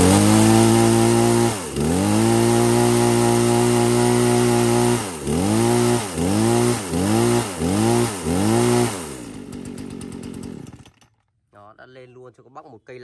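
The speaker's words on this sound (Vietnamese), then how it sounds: "Máy nổ cực kỳ êm luôn." A used Japanese-market chainsaw engine runs loudly and steadily up close, with repeated rhythmic revs in the middle stretch. It then drops off and cuts out near the end.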